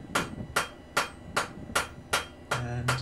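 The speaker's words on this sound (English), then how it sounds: "you put your first scarf on, use the heel of the hammer" A blacksmith's hammer shapes a scarf on hot steel for forge welding, striking seven evenly spaced, ringing blows about every half second at close range.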